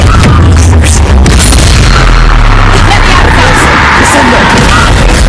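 Confringo fire spell blasts in Hogwarts Legacy, a dense, loud rumble of explosions and bursts filling the whole moment with booming low-end crackle.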